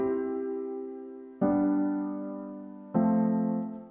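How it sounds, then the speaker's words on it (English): Triad chord played on a synth-like instrument in beat-making software, struck three times at an even pace. Each bright, sustained chord decays slowly before the next, clean and alone. "This is the triad. I'm just making the triad."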